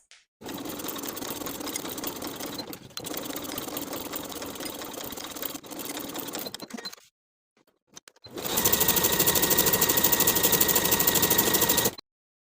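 A sewing machine edge-stitches along both long edges of a folded fabric bag strap, running in three steady rapid bursts with short pauses between them, the last burst louder and closer.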